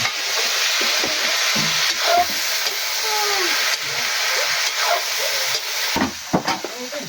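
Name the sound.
stir-frying vegetables, string beans and bottle gourd, in a pan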